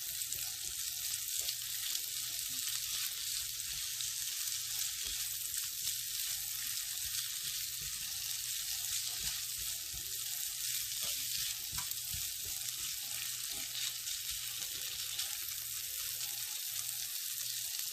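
A roux for shrimp and grits with andouille sausage sizzles steadily in a pan, a continuous loud hiss and crackle with no talking.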